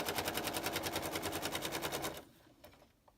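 A sewing machine stitching down a quilt binding line, a fast even rattling run for about two seconds close by, then stopping abruptly, leaving a few faint clicks.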